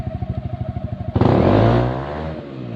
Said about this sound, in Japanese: クラッチ滑ってっかもしんない。